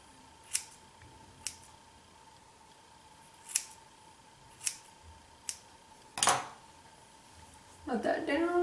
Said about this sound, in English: then I'm going to cut like a few inches off.